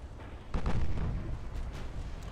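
An 18-inch naval shell strikes a ship in the naval combat game Ultimate Admiral Dreadnoughts, a heavy, rumbling explosion that swells at mid-clip and lingers as a dense low roar, with no talk.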